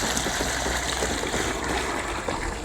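Dark worm tea from a homemade worm farm is poured into a bucket as a steady, close gushing trickle of liquid that runs the whole time without talk.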